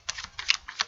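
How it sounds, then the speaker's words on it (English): Tarot cards being shuffled during a reading: several quick crisp clicks and riffles in small bursts, close and fairly faint, with no talking. "as I continue to shuffle for this final portion of this read"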